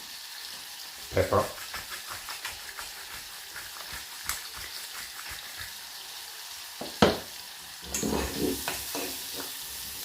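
Prawns sizzle and fry in a hot pan with onion, with stirring clatter and bursts of hissing over a steady crackle, while a voice speaks briefly.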